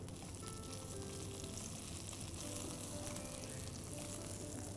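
A spiced stuffing mixture with cashews and raisins cooks in a pan, giving a soft, continuous sizzle and frying crackle at low level with faint stirring.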